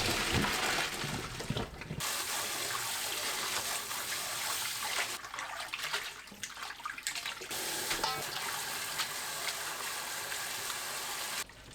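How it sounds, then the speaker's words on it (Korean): Blanched spinach is rinsed under a steady stream of cold tap water, running continuously and close with a brief change in the flow midway. "시금치 숨이 죽으면 찬물에 헹굽니다."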